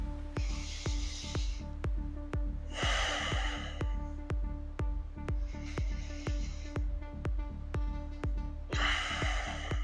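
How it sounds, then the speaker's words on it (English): Forceful nasal breaths through the nose during a kettlebell workout, recurring in bursts of sharp exhales and inhales over steady rhythmic clanks or pulses, with no talking. "from this point forward, nasal breathing, no talking"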